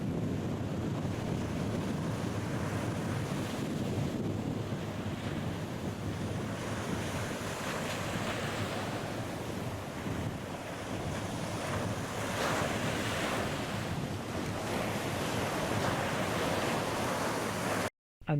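Calm ocean waves wash steadily onto the beach near Berlin, Maryland, a continuous soft surf roar with some wind noise across the microphone, no voices, ending abruptly.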